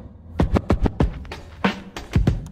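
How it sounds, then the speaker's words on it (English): A DJ scratches a record on a turntable, producing a string of sharp back-and-forth zipping strokes in uneven rhythmic bursts, loud and close with no talk. "So you find that when you scratch like that with a purpose"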